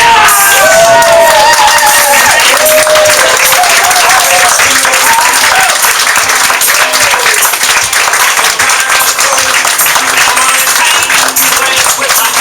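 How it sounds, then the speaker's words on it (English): A crowd at a launch event in a restaurant bursts into loud standing applause with scattered cheers and whoops, continuous and dense throughout, with voices calling out over the clapping. "If we can have everyone stand up and give a nice round of applause for Jim"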